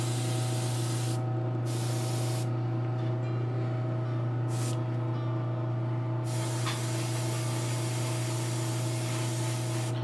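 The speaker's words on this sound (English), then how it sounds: "I know she's over here behind me and I'm spraying" Thinned paint, alcohol-and-water mix, sprayed from an airbrush onto an anime model kit indoors: a steady airy hiss in several bursts with short pauses, over a constant low hum.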